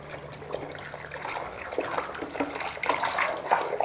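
A probe swirled through clone solution in a small container, giving soft, close liquid sloshing and trickling that grows slightly busier toward the end, faint and alone with no talking.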